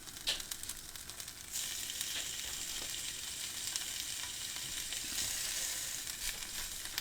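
Meatloaf set straight into a dry frying pan with no oil, browning in its own moisture, gives a steady close sizzle that swells after a moment and crackles on without any talk.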